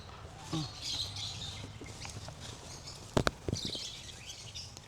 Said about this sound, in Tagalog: Ito yung bird feeding dome. May mga alagang ibon dito na.